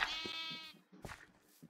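A sheep in Minecraft bleats once in a short wavering call, fairly faint, followed by brief quieter sounds.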